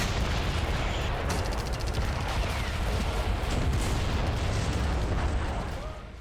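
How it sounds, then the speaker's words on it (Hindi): A Hezbollah rocket and gunfire barrage on northern Israel produces a dense, unbroken roar of blasts and rapid shots, loud and continuous for several seconds before easing slightly at the end. "हिजबुल्लाह ने उत्तरी इजराइल में बारूद बरसाना शुरू कर दिया।"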